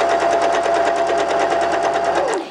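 A sewing machine runs a baste stitch in an even, fast rhythmic whirr of needle strokes, close and steady for about two seconds before slowing to a stop.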